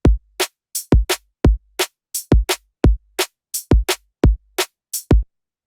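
A basic drum kit loop programmed in a DAW for a drum and bass idea: sparse, evenly spaced kick and snare-like hits with crisp, dry attacks, loud and close with silence between strikes.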